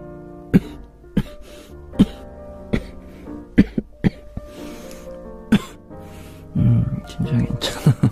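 A person coughs repeatedly, several short harsh bursts spaced about a second apart with throat clearing, followed by a longer rougher coughing fit near the end, close to the listener.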